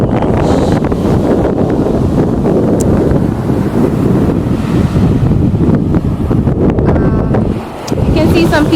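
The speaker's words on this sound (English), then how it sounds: "Look how strong the wind is right now." Strong wind buffets the microphone on a private beach in Puerto Rico, with ocean surf rolling in continuously underneath; a loud, steady roar that dips briefly near the end.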